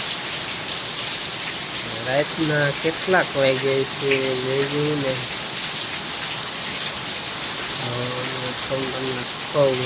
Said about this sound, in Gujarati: 11:30 વાગી ગયા હે, ફૂલ વરસાદ ચાલુ છે